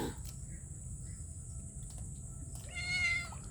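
A cat near fishermen on Laguna de Bay gives one faint, brief meow toward the end, barely standing out over a steady background hiss and hum, with no talk.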